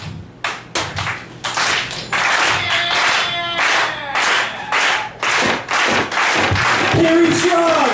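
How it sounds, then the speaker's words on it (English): Audience clapping at a small live comedy show in a cafe, starting as a few scattered, close claps that quickly swell into steady applause, with some hands very near and loud. "I would like you to put together a hearty round of applause for my friend."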